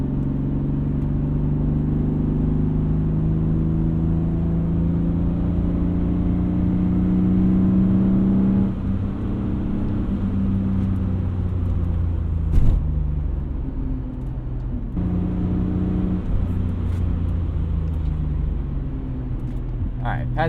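BMW E36 M3 engine pulls up through the revs, drops back around nine seconds in, then climbs again, a steady loud drone heard from inside the car with road rumble underneath.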